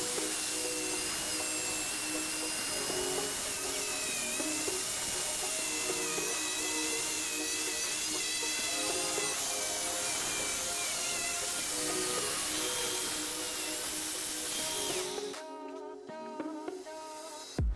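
A power tool grinds and cuts through the steel front chassis legs of a BMW E30, giving a loud, continuous high-pitched whine with shifting tones that stops abruptly near the end.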